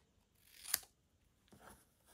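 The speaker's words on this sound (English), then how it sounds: "A little snip on the side." Scissors snipping cardstock, one short crisp cut followed by a fainter second snip, quiet and close in an otherwise silent room.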